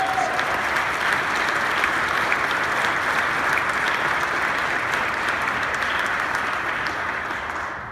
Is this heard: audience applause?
yes